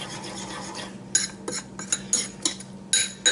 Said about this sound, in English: We'll give this a good stir. Stir this mixture good.